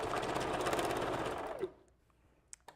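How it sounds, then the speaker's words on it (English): A sewing machine back stitching on a wavy human-hair wig, running in a fast steady whir for about a second and a half before stopping, followed by a couple of small clicks, close and alone. "I'm going to do a back stitching"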